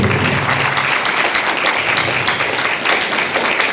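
A church congregation at a sermon applauds together in a dense, sustained wash of many hands clapping, loud and continuous throughout.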